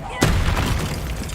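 An Incendio fire spell cast in the Hogwarts Legacy video game bursts out with a sudden loud whoosh and then holds as a dense, sustained roar of flame until the end.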